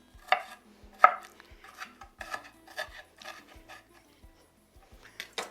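Knife chopping poblano peppers on a cutting board, a series of irregular crisp thuds and scraping strokes, close and fairly quiet, with a few louder chops near the start and gaps between bursts.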